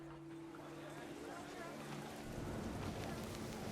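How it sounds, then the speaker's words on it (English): Heavy rain pours down in the video game What Remains of Edith Finch, a dense steady wash of falling water that swells slightly louder toward the end, with a low sustained tone and faint voice beneath. "rain came down in buckets then,"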